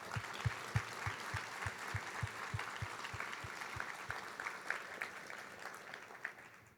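Audience applause at a newly certified CPA ceremony, a steady broadband patter of clapping from a room crowd lasting throughout, moderately loud and even, with a few sharper close claps standing out near the start.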